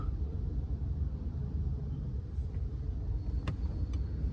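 Road traffic from many vehicles on a busy road in the evening, heard as a steady, dense engine rumble that continues without a break and has no clear pauses.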